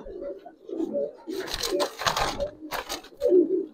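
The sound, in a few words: pigeons cooing as a pair is released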